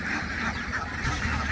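Ducks quack on a duck farm, a dense, noisy flock calling over one another at close range without a break.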